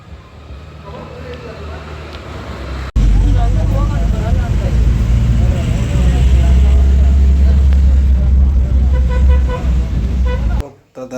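Vehicles rush along the ten-lane Mysore–Bengaluru national highway in a loud, continuous roar of close traffic, with horn toots breaking through near the end.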